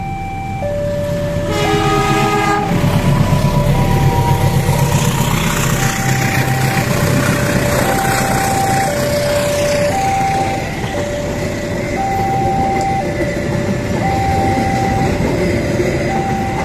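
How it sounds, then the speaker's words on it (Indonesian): A Kaligung passenger train pulled by two locomotives departs from Cirebon toward Semarang, rumbling loud and close past a level crossing while the crossing's warning bell chimes a steady two-tone pattern throughout. "merekam keberangkatan kereta api Kaligung dari Cirebon menuju Semarang"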